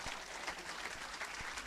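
A church congregation applauds in steady, moderate clapping that carries on throughout, with a faint voice underneath.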